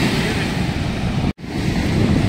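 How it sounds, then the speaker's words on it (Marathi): Sea waves surging over a damaged coastal road, a loud roaring rush of surf mixed with heavy wind buffeting the microphone, broken by a brief dropout midway. "तो मौजो बघा पाण्याचं"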